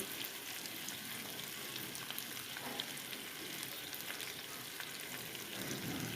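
Chopped onions fry in a pan with a soft, steady sizzle and faint crackles throughout, at a quiet level.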